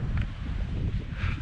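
Steady wind on Corsica buffets the microphone with a low, rumbling roar, continuous and close, with no voices.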